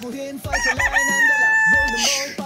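A grey (abuhin) gamefowl rooster crows loudly and close by, two drawn-out cock-a-doodle-doo calls with clucking between them.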